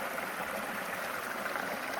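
Stover Creek on the Appalachian Trail flows with a steady, soft, even rush of water heard on its own, with no voices.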